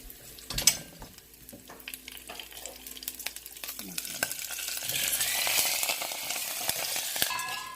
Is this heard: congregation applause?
no